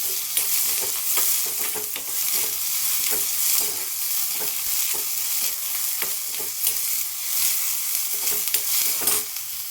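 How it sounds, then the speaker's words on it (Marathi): Onion sizzles steadily as it fries in a pan, with repeated scraping knocks from stirring scattered across the steady crackle, close and without talk. "कांदा पण असं छान गुलाबी होईपर्यंत भाजायचा, करपू द्यायचा नाही."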